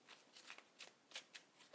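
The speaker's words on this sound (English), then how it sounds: "the deck is good and shuffled" A deck of cards is shuffled close by, a series of quick, crisp riffling bursts and slaps in an irregular rhythm over near silence.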